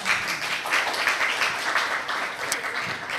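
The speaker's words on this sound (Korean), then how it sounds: "우리 부장님께도 큰 박수 부탁드리겠어요" Audience applauding at a Pangyo startup investment exchange meeting in Gyeonggi-do, a steady wash of many hands clapping at moderate volume with no voices over it.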